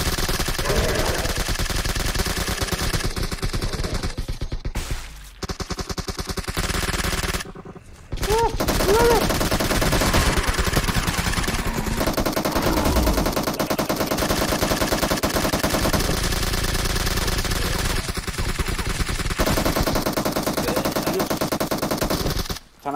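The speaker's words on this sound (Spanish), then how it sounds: "aprovechando para dispararnos, tío, los cabrones." Sustained automatic gunfire from enemies in PUBG Mobile during a zombie match, loud rapid bursts running almost continuously with two brief pauses, mixed with other game effects.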